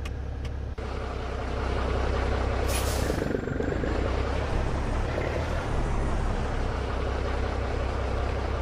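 Truck in American Truck Simulator idling with a low steady engine drone, broken by a sharp hiss of air brake release near the start.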